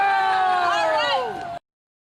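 A small crowd at a Canadian far-right anti-vaccine protest lets out a sustained, sliding boo from a handful of voices close by. The sound cuts off abruptly into silence.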